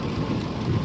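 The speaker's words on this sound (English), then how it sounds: "It is raining here in Atlanta" Rain falling in Atlanta, a dense continuous hiss with a low rumble underneath, steady and fairly close for under a second. No talking.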